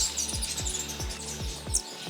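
Tufted coquette hummingbird giving soft, high chirps and twitters over a steady background of repeating low thuds, faint and close, with no voices.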